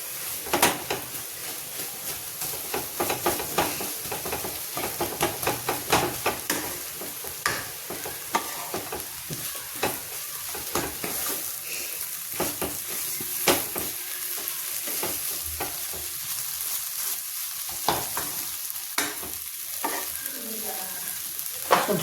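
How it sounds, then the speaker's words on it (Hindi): Gram flour is stirred into spinach in a pan, the steady sizzle punctuated by rapid, repeated scrapes and taps of a spatula against the metal, close and busy throughout. "कस के बेसन को मिक्स कर देंगे।"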